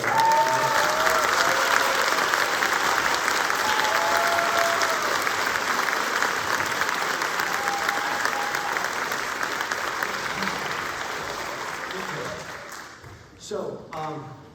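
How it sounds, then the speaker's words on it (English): Audience at a school fall concert band performance gives sustained applause that gradually fades out near the end, with a few voices and faint tones underneath. "get a round of applause for her"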